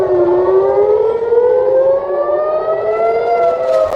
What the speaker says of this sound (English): air raid sirens blared across the border town of Nahariya